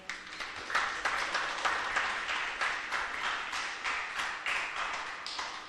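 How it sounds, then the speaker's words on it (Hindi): An audience at a Vedic bhajan satsang claps in a fairly steady rhythm, a close, dense patter of hand claps that holds throughout with no voices. "भाई ताली बजाओ तो सब बजाओ।"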